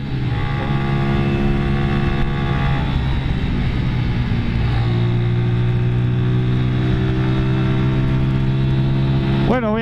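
A TVS Apache 200 4V FI motorcycle engine in Sport mode drones steadily in heavy traffic and shifts pitch as it accelerates, with road and wind noise throughout and a brief rev at the end.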